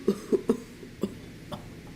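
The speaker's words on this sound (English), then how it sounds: "Henry coughed feebly." A voice performs the feeble coughing of a steam engine story character, with a few weak, irregular sputtering coughs fading over two seconds.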